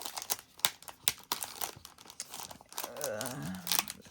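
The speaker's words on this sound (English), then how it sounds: "The tape is sticking to the wrapper and I don't want to rip it." A plastic wrapper around a set of craft dies crinkles and crunches as it is opened, a close, irregular run of sharp crackles and rustles, with tape tugging near the end.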